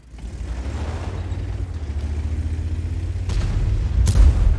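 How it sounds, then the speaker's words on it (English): A tank cannon fires on the move in a tank video game: a rumbling engine drone builds, then a short booming shot cracks out loud, followed by another sharp impact. "one quick shot fired on the move"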